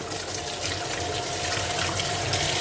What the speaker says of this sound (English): turn the warm water on